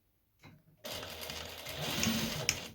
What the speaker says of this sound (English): And then sew over that side as well.